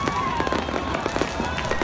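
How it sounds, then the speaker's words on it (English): Fireworks crackle and pop in a loud, continuous barrage at a crowded midnight street celebration in Cartagena, Colombia, with rapid overlapping bursts and a busy crowd murmur underneath. "they brought their own fireworks"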